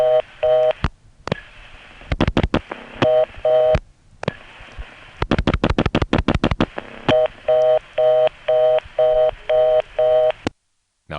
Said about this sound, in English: I'll dial a few more things that go to reorder and then eventually give up.